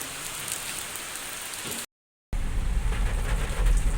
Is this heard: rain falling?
yes